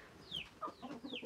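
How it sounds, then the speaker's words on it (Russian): A few quiet chicken clucks and squawks come in short irregular bursts, faint and slightly distant, with no talking. "Там курочки."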